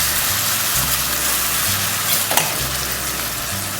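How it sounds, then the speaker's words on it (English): Pepper ginger chicken in ginger syrup sizzles loudly and steadily in a pan, with a dense hiss of frying and a few soft stirring scrapes. "Mix that in real good."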